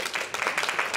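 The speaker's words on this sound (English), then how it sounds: "Give him a big round of applause." Brief audience applause greets a young volunteer at a close-up magic competition, a quick patter of hands from a small crowd.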